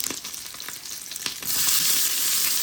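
Cumin seeds sizzle and crackle in hot oil in a pan, with a few sharp pops early on before the frying swells into a louder, steady hiss.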